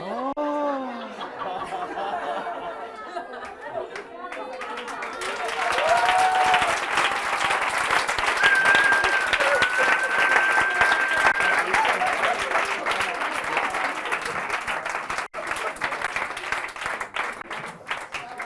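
An audience in an educational talk applauds a short theatre performance, rising after someone speaks into loud, sustained clapping with scattered cheers and light laughter.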